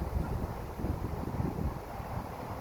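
Wind gusts outdoors at a fairly close, steady level, a continuous low rumble with buffeting against the microphone throughout and no talking.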